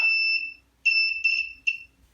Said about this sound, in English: the buzzer's gonna go off